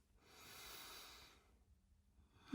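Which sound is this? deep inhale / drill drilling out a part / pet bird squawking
deep inhale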